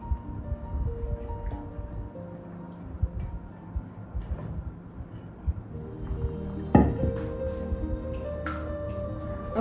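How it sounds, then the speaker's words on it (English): A spoon works two large eggs into brownie batter in a bowl, making soft irregular scraping and knocking with occasional light clinks against the bowl, fairly close, with no talk. "now what we're going to do is we are going to mix in the eggs"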